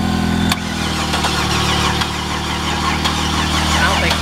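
Buick LeSabre engine cranking over slowly, a loud steady mechanical churn that runs the whole time after a brief click near the start. Voices can be heard underneath.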